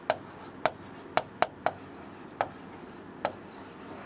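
A teacher writing on a classroom board with sharp, separate taps and short scrapes in an uneven rhythm, close and clear with no voices over it.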